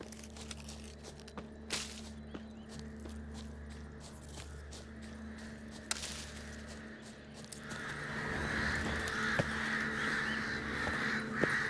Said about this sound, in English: All I gotta do is follow the cawing.